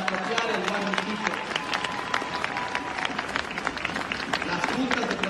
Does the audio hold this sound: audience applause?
yes